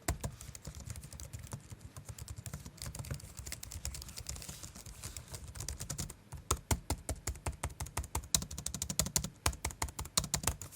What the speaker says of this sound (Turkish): Şimdi gelin bir klavyede ses testine bir bakalım nasıl bir yazım performansı var beraber görelim